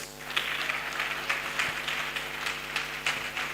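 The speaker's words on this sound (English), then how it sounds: "Another round of applause for our guest lecturer." Moderate applause from a lecture audience, a steady patter of many hands clapping at middle distance.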